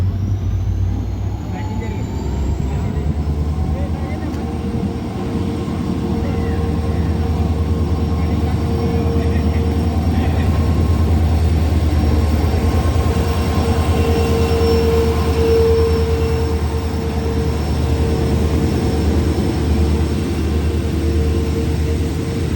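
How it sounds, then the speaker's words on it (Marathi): A train rumbles steadily into platform 2 at a railway station, a continuous low, loud roar with faint tonal whines above, holding for over twenty seconds with no clear break. "प्लॅटफॉर्म नंबर 2 वरती कोणती तरी ट्रेन येत आहे"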